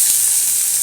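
Curry leaves sizzle in hot oil in a pan with mustard seeds and onion, a steady loud crackling hiss that fills the whole short moment without pause.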